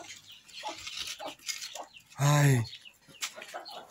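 A hen in a poultry coop lets out a single loud, harmonic cluck up close, between stretches of someone talking nearby.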